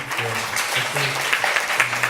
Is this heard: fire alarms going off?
no